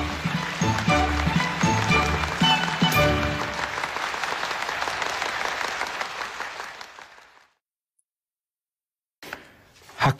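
Crowd applause at a radio calisthenics gathering in Ube, Yamaguchi, a sustained burst of clapping that fades out to silence before a brief return of sound.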